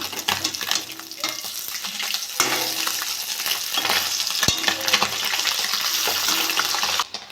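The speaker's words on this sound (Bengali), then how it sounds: "মাছগুলো এক সাইড ভাজা হয়ে গেছে আমি ওটা ভেজে নেব" Small puti fish fry in hot mustard oil in a wok, a loud continuous sizzle and crackle close by, with a brief sharp clatter midway and a sudden drop at the end.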